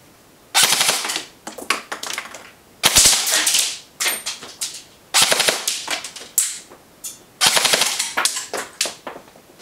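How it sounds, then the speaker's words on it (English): A Smith & Wesson M&P 15 carbine airsoft electric rifle on a stock 9.6 volt battery fires loud, close full-auto bursts of rapid mechanical clatter. About six bursts of one to two seconds each are separated by short pauses. "Now let's check the rate of fire."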